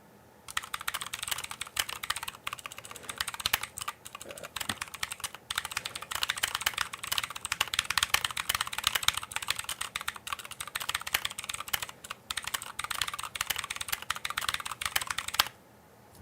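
Fast, continuous typing on a mechanical computer keyboard at a board repair bench. The key clicks are dense and close, run steadily with only brief pauses, then stop near the end.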